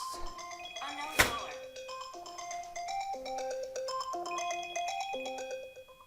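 A mobile phone rings with a melodic ringtone for an incoming call flagged as potential spam, the repeating tune sounding moderately close in a quiet room, with a sharp thunk near the start.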